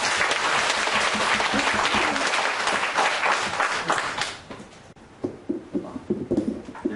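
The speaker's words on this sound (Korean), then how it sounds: "오래 오셨다는 거 우리 박수로 환영하겠습니다" A church congregation applauds in welcome during a Sunday worship service, a broad, steady wash of clapping from many hands that thins out and gives way to a voice near the end.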